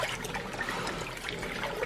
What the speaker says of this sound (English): we're just washing the lid now, which had a ton of stuff on it.